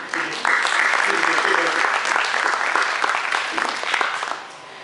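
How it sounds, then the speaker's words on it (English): Audience applause at a community gathering, a dense, steady wash of many hands that swells in quickly and holds at full strength before tapering slightly at the end. "So I want to give you a round of applause."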